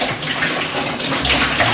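Liquid pours steadily into mango mead must in a continuous, splashing gush, loud and close, with no voices.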